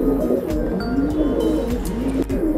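Batera pigeons kept for sale murmur in soft, repeated throaty coos, close by and fairly loud, with a few light rustles and chirps mixed in, no talking.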